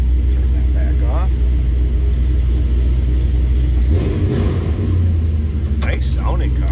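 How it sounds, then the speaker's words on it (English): A 1972 Buick Skylark convertible's exhaust rumbles deep and loud up close, swelling briefly as the engine revs, while a voice talks over it. "Nice sounding car. You can hear that exhaust."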